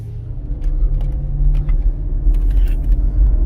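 A ten-year-old truck being driven, its engine a steady low rumble with faint creaks and rattles from the cab.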